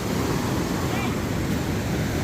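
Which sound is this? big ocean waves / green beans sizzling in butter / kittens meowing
big ocean waves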